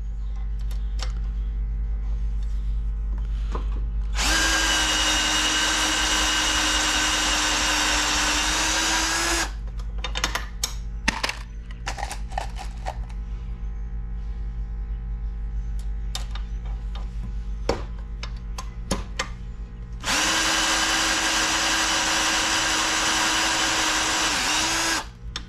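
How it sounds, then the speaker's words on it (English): A power case trimmer cuts .223 brass that has been cut down and formed for 22 TCM, trimming it to length. It runs in two loud, steady whirring bursts with scattered clicks and handling ticks between them. "going to start trimming the 223s that I cut down and formed for the 22 TCM."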